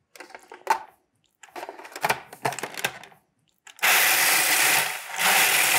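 Gluten-free, dairy-free graham crackers are ground in a food processor bowl, first in several short choppy pulses with pauses between, then in a loud continuous whir.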